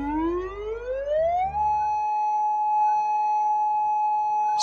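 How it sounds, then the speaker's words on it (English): A loud tsunami warning siren rises steadily in pitch, then holds a long, flat electronic tone. "If you hear a siren, leave the beaches and harbor areas"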